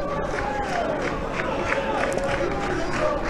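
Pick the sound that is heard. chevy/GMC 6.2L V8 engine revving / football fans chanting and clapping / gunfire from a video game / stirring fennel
football fans chanting and clapping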